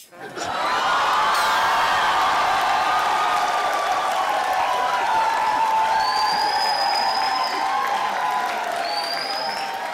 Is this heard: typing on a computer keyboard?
no